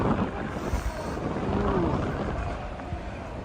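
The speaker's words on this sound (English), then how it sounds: "it's really windy here" Steady wind rushes and buffets the microphone on a Tokyo street walk in Shinjuku, a broad low roar that stays constant throughout with no speech.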